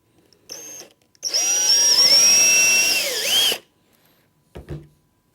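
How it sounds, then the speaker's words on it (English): A power drill bores a screw hole in the frame of an IT Range 500 base unit with three drawers, making a short trigger blip and then a steady whining run of about two seconds, with faint clicks afterward. "hold it with your thumb and drill the 4th hole"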